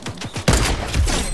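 A double-barrel shotgun fires in a multiplayer shooter video game, a loud close blast at mid-clip following brief game sounds, with the boom ringing out over the rest.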